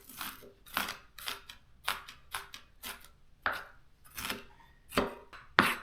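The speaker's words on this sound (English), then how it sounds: "we chop them up, and then gonna start finally chopping them some more" Knife chopping shallots on a cutting board in an irregular series of crisp, close thuds, about a dozen cuts with brief pauses between them.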